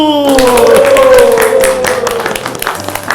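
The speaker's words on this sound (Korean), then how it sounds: "박수!" A church gathering of old classmates on a Korean Christian TV program breaks into clapping. The applause swells after a sustained tonal sound at the start and continues loud and close, with voices mixed in.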